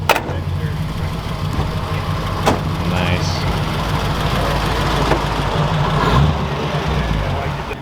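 A truck pulls in with its engine idling in a steady, loud mid-low rumble beneath a brief spoken word, with a few clanks and knocks on top.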